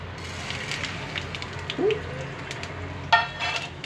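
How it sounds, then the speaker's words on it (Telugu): Lentils fry in a pan for a Telugu-style potato fry, giving a low, steady sizzle with a few soft stirring scrapes and light clinks of a utensil against the pan. "వేగుతున్నాయి కదా, వేసేస్తే ఇవన్నీ వేగుతాయండి."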